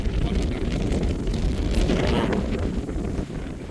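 Strong wind gusting outdoors in a rural Thai village, a loud continuous roar with low rumbling buffeting against the microphone throughout, no voices heard.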